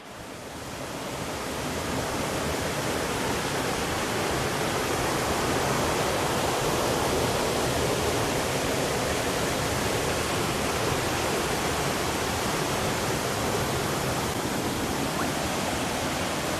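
Water at a forest waterfall rushes in a loud, constant roar, a broad, steady wash of noise with no breaks, close and enveloping throughout.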